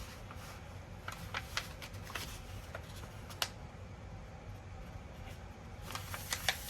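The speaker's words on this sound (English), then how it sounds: "go ahead and fold it this way." Origami paper being folded and creased by hand for a pedestal bowl, soft crinkling and papery rustles with a few sharper crisp snaps, close and fairly quiet, without speech.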